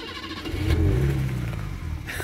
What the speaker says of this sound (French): Je trouve ce bruit de démarreur magnifique.